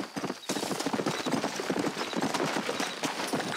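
Rapid, steady clip-clop of horse hooves trotting close by in Red Dead Redemption, continuous and fairly loud throughout.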